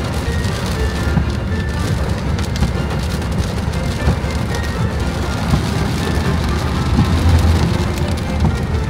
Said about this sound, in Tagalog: Kaso umuulan.